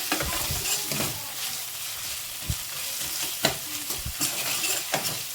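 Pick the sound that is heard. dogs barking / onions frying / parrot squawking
onions frying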